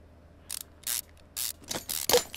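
Rear suspension arm bolted onto a car in Car Mechanic Simulator 2015, heard as a series of short, sharp ratcheting whirrs from a power tool, about five bursts with brief gaps between them, close and clear with no talking.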